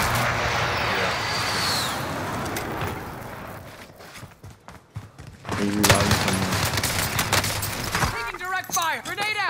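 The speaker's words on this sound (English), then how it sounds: "Taking direct fire, grenade out." Gunfire in the Call of Duty Modern Warfare video game: dense bursts of automatic fire and explosions, loud and close, then a quieter lull before another heavy round of shots. Players talk over parts of it.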